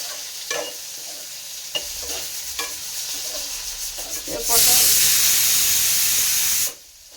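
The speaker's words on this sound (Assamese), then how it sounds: "পটল আৰু আলুখিনি ভজা হৈ গ'ল" Pointed gourd and potatoes frying in a pan, with scattered scraping stir strokes followed by a loud, steady sizzle and hiss that rises sharply for about two seconds, then cuts off.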